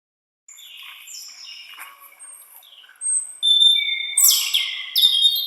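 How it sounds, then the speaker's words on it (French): European robin singing outdoors, a series of thin high warbling phrases and trills, clear and fairly near, growing louder in the second half, with no other sounds around it. "Ici, vous reconnaîtrez facilement le chant d'un oiseau."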